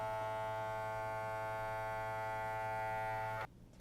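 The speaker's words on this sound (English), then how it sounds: "press the vacuum button. And this is gonna go ahead and pull out all of the air." An MZROT vacuum sealer pump drones with a steady electric hum as it draws air out of a food bag, then abruptly stops, leaving quieter background noise for the final moment.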